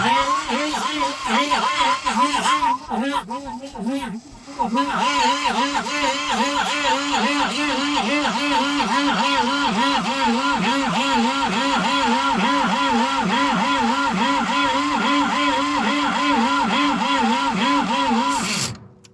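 A Universal-445V tractor engine, after standing idle a long time, roars loudly and runs with a steady, pulsing rhythm for most of the clip, stuttering briefly near the start before settling and then cutting off at the end.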